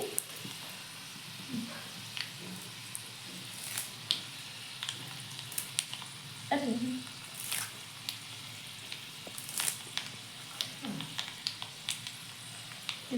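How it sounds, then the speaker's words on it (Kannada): Mustard seeds, curry leaves and peanuts for tempering sizzle and crackle in hot oil at close range, with scattered pops and stirring scrapes over a soft, steady frying hiss. "ಈಗ ಒಗ್ಗರಣೆ ಕೊಟ್ರಿ"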